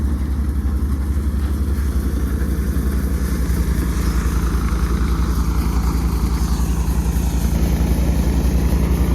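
A tractor engine runs steadily during thresher work in a field, a continuous loud low rumble with a mechanical drone that holds unbroken from start to finish.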